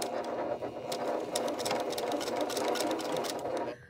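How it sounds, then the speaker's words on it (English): A sewing machine stitches along the bottom hem of a jean skirt, a steady close mechanical whir with rapid needle clatter that runs continuously for several seconds before stopping abruptly. "I'm sewing on that bottom line."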